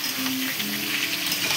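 Pumpkin leaf stems and potatoes sautéing in a pan, a loud, continuous close sizzle with faint stirring underneath and no talking.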